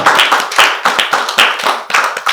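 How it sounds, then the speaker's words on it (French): A church congregation claps and applauds together, a close, dense burst of hand claps lasting a couple of seconds with no talk. "Acclamez pour vous-même."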